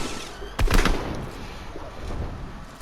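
Two-shot shotgun firing in the video game Raiders, a sharp pair of blasts close together near the start, then a quieter game background.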